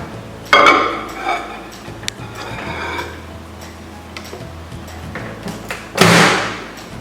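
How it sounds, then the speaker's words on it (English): A microwave oven door thumps shut, followed by faint mechanical ticking and handling noises, then another sharp clunk near the end. "Put it in the microwave."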